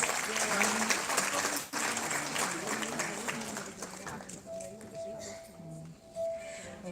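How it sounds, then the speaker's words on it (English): A huge round of applause at a ceremony, dense clapping for the first few seconds that fades as it goes, with a voice speaking and a sustained tone emerging in the latter half. "Let's give it a huge round of applause."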